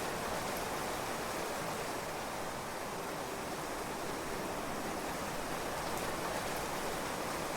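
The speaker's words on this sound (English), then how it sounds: "Sound of rain is making you feel colder than you are." Steady rain in the Clanfolk video game, a dense, even hiss that holds at the same level for the whole stretch, with no voices over it.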